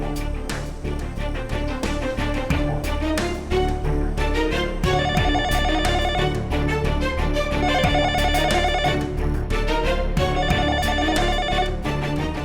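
A telephone rings loudly and repeatedly in a domestic drama scene, its electronic ring tones coming in steady bursts with no talking over them.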